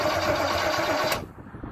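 A small block Chevy V8 in a BMW E36 drift car runs with a harsh, buzzing engine roar for about a second, then abruptly cuts out, leaving low rumbling and faint shop noise behind.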